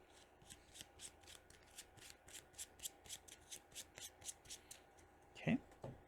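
Cards are shuffled by hand during a Marvel Champions card game, a soft, quiet run of about twenty rhythmic riffling flicks with one louder thump near the end.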